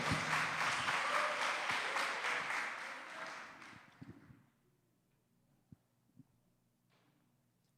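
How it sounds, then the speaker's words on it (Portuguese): A church congregation applauds strongly during a worship service, steady broad clapping that fades out over about four seconds, followed by near silence with a few scattered isolated claps. "Aplaude Jesus bem forte aí."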